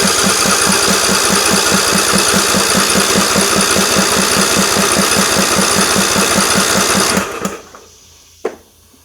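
A lawn mower engine with the battery hooked up and no spark plug fitted, cranked over by its starter in a fast, even chugging rhythm that runs loud for about seven seconds, then stops, followed by a couple of faint clunks.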